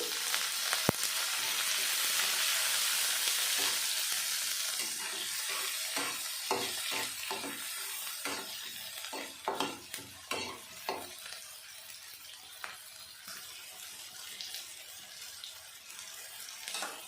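Chopped tomato frying in a pan for palak paneer, with a steady loud sizzle and a series of scraping stirs partway through, close up and with no voices.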